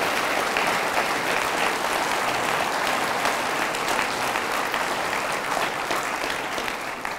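Audience applause at the Federalist Society's Barbara K. Olson Memorial Lecture, a dense, steady wash of many hands clapping throughout, loud and close, with no speech over it.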